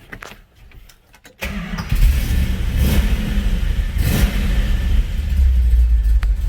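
Plymouth 'Cuda with a 440 Six Pack V8, manual 6-speed and aggressive cam, cranks briefly and fires up, settling into a loud, lumpy rumbling idle with a couple of throttle blips close by.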